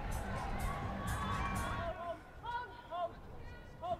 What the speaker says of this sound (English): You can hear the cheer coming from her teammates as well.